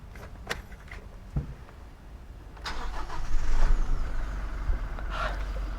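A Toyota Kijang Innova Reborn 2.4 diesel starts up: a few faint clicks, then the engine catches and settles into a steady, moderately loud idle close by, with no talking.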